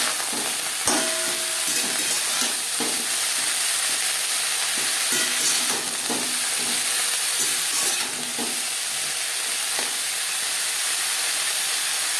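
Paneer and broccoli stir-fry in a pan over high to medium flame, a loud continuous hiss and sizzle with occasional scraping and clanking of a spatula, steady and close throughout.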